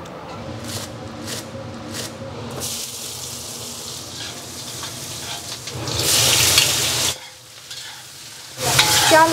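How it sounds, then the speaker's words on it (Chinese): Sea chicken (haijizi) going into a hot wok, a loud rushing sizzle and stirring that rises sharply near the end, mixed with running water and clatter, no talk. "等一下下去炒"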